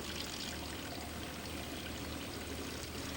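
Treated water pouring out of a wastewater tank system, a steady, faint splashing pour that continues unbroken with no voices.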